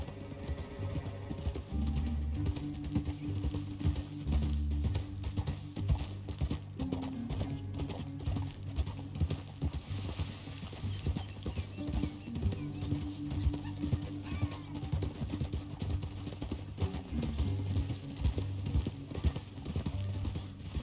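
Horse hooves clip-clopping at a steady rhythm in Red Dead Redemption 2, set against a dense, continuous musical score and game ambience that partly masks them.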